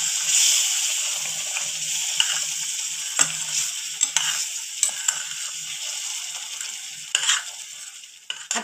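Sesame sheera being stirred in a pan over medium heat, with close, continuous scraping and light sizzling plus occasional sharp clicks of the spoon against the pan, and no voices.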